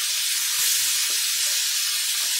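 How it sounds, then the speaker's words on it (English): Prawns sizzling steadily in butter and oil in a hot pan, a dense broadband crackle and hiss with faint low clunks underneath, no voices. "Chuck our prawns in the butter, oil."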